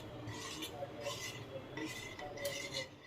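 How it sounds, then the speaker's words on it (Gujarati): A spoon stirs milk in a pan over low heat for a chocolate milkshake, giving light repeated clinks and scrapes of metal against the pan at a steady, close pace. "ચમચીથી હલાવો."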